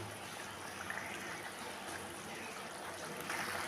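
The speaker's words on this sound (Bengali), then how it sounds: "এখন এমনি একটুখানি মাছটা যাতে সেদ্ধ হয় মশলার সাথে, মশলাটাও ভালো করে মাছের মধ্যে ঢোকে, একটু ফুটিয়ে নেব" A pot of rohu fish curry with taro corms simmering, giving a steady, even bubbling hiss throughout with no voices.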